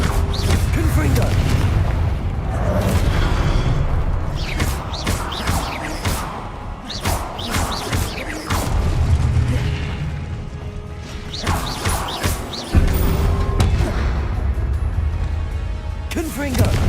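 Booming fire-spell blasts from the Hogwarts Legacy video game, Confringo explosions going off in quick succession over a dense, loud bed of combat noise, crashes and thuds, with shouted spell names between them.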